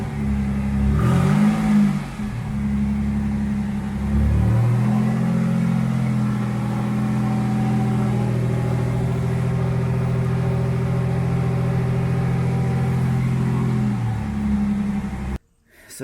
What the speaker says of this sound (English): new Catback exhaust with dual tips